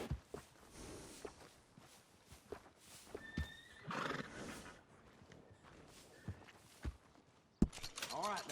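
Horse in Red Dead Redemption 2 whinnying loudly and clip-clopping along, hooves thudding in an uneven rhythm with a sharp whinny near the end, set against game ambience.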